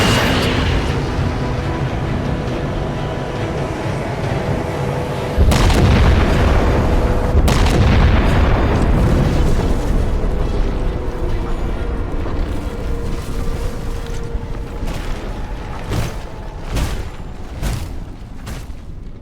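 Heavy explosion in the Halo 4 video game after a locked-on target is fired upon: a loud, sustained rumbling roar with a sharp burst partway through, followed by scattered cracking pops as it fades.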